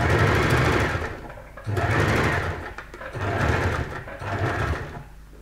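A sewing machine stitches a straight seam on a lined zipper clutch bag. Three long runs of steady, loud, close mechanical whirring are separated by brief pauses, with no talking.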